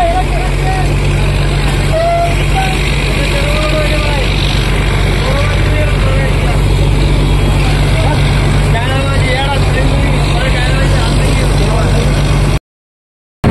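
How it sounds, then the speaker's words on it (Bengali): Fishing boat engine droning steadily and close as the boat pulls away after the net is cast, a continuous low rumble with voices over it, cutting off abruptly near the end. "এবার বোট ছাড়ার পালা।"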